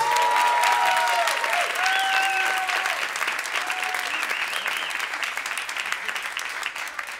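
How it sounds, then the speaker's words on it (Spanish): A concert audience at Sala Master applauds a pianist with dense, sustained clapping that fills the room, then slowly thins and softens, with a few voices and cheers mixed in. "Un aplauso para Andrés"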